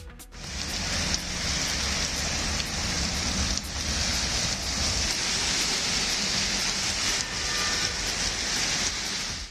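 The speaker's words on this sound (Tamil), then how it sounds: "பல்வேறு பகுதிகளில் பெய்த மழையால் இதமான சூழல் நிலவுகிறது" Steady, dense rain falling across town areas, a continuous loud hiss of drops on surfaces with no break, close and enveloping.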